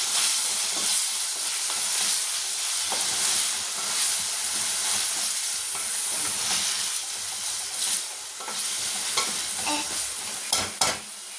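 Garlic paste and onions being sautéed in a pan for a chicken fry, with a steady loud sizzle and occasional scraping stirs, a few sharper clatters near the end.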